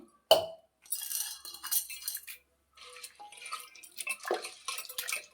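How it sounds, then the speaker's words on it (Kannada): Sago pearls are rinsed in water in a kitchen: a sharp clink of a vessel, then splashing, sloshing and dripping in uneven bursts, with a short quiet pause partway through. "ಮೊದಲಿಗೆ ಸೀಮೆ ಅಕ್ಕಿಯನ್ನು ಒಂದು 2-3 ಸತಿ ನೀರು ಹಾಕಿ ತೊಳ್ಕೊಳ್ತೀನಿ"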